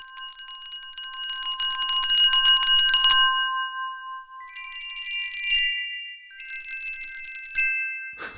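Sampled festive bells from a free Christmas Kontakt library ring as bright, shimmering metallic tones: a long, dense tremolo passage, then two shorter ringing bursts, each fading into silence.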